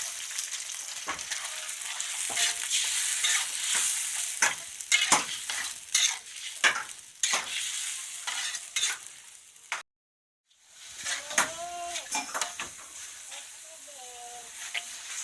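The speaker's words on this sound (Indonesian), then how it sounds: "Aduk-aduk." A ground spice paste fries and sizzles in a pan for Acehnese white-cooked shrimp, with repeated scraping stirs against a steady hiss, a brief silent cut, then bubbling sizzle resuming.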